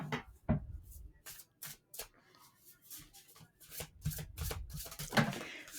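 Oracle cards shuffled and pulled for a reading, giving a run of close, soft papery riffles and slides in bursts, with a brief murmur of voice underneath.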